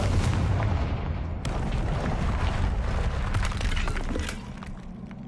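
A Confringo spell explosion in Hogwarts Legacy sets off a dense, rumbling blast with shattering, crumbling debris that fills the clip loudly, then eases off slightly toward the end.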